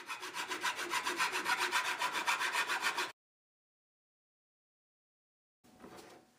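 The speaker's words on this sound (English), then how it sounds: "Now you can start filing the sides of the blade." A metal file rasps along the side of a metal broadsword blade in quick, even back-and-forth strokes, close and clear. After a pause of silence, a few fainter strokes follow.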